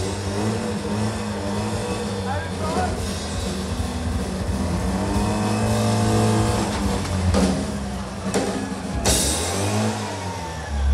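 An old motorcycle engine revs loudly and steadily, its pitch rising and falling over several seconds as it runs close by, with a brief sharp burst near the end.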